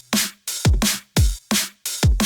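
Drum and bass drum loop processed with drum bus EQ and saturation, dancefloor style: tight, glued kicks and crisp snares alternate in a steady, loud, driving groove of about six hits, no voices.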